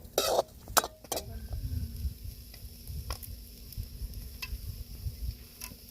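Onion roasting in a pan over a wood-fired stove, heard as a low crackle and quiet sizzle, with a few sharp clinks and scrapes at the start and then a gentle steady bubbling.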